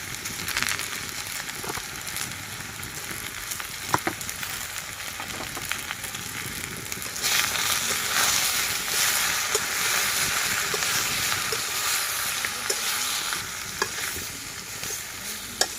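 Tomatoes seasoned with salt, chili powder and turmeric stirred in a pan, a steady soft sizzle with scraping stir strokes throughout, growing a little louder partway through, no voices.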